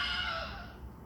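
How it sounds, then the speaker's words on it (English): The Wilhelm scream, a stock film sound effect: one short, loud, falling cry that stands alone with no talk around it. "It's called a Wilhelm scream."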